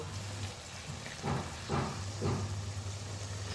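Hot water poured into a pan of simmering banana flower kofta curry, giving a steady steamy hiss with a few louder surging gushes in the middle.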